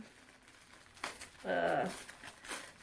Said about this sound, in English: So now I'm going to unwrap it and show you what I bought.